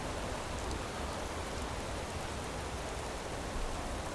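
Steady, dense rain hisses evenly throughout in the video game Enderal, a constant wash of falling drops with no pauses and no voices.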